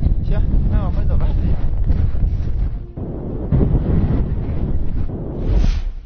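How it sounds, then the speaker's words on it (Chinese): Strong blizzard wind sweeps across snowy winter grassland, a steady, close roar of buffeting gusts against the microphone, with voices talking over it at the start. "考察队这是遇上冬季草原上常见的白毛风了，也就是大风降温呐，并伴有降雪的天气"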